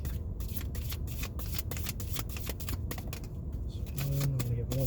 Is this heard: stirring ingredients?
no